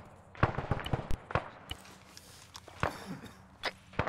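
Gunfire in the video game ArmA 3: scattered sharp rifle shots in quick bursts and single cracks, some close and loud, others fainter, spaced irregularly across the moment.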